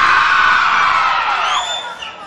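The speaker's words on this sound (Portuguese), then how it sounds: "Cadê o grito das mulheres?" A live concert crowd of women at a 1999 forró show cheering and shouting together, a loud, dense wash of high voices that swells and then gradually fades over about two seconds.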